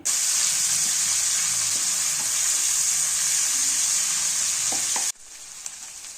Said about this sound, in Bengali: এই পেঁয়াজগুলোকে হালকা ভেজে নিতে হবে